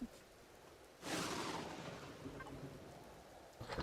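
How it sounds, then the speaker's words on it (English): Rain and a thunderstorm in the video game Empyrion Galactic Survival roar in a steady wash, with a loud rumbling surge of thunder after the first second and another swell near the end; no voices. "This storm's not helping matters very much because I can't hear if there's any Xerex around."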